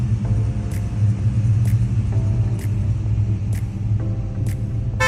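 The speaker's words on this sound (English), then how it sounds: "1970 Chevrolet Chevelle SS 454, a true powerhouse of its time." Idling 1970 Chevrolet Chevelle SS 454 muscle car with a steady, deep V8 rumble, loud and continuous, with faint periodic clicks above it and no talk.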